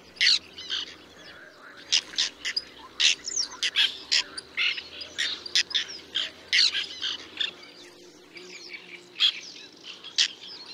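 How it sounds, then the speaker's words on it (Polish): Terns call noisily at a nesting colony in Poland's Barycz Valley: a dense series of sharp, harsh squawks and chirps, loud and close, repeating in quick irregular bursts over a faint low hum. "Agresywne i hałaśliwe rybitwy zapewniają im ochronę, ostrzegając o zbliżającym się niebezpieczeństwie."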